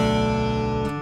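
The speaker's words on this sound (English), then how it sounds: "now that we've got our guitar detuned, it should sound like this" A sustained, resonant guitar chord strummed in open D tuning rings out with rich overtones and a low droning bass, fading slightly before cutting off.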